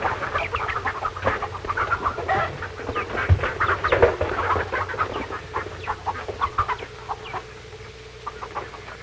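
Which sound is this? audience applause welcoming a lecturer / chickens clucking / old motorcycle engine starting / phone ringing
chickens clucking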